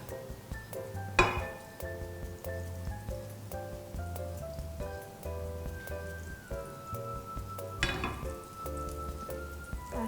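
Soft crackling sizzle of melted butter in a hot frying pan for French toast, steady throughout, with a couple of sharp metallic clinks from a utensil against the pan.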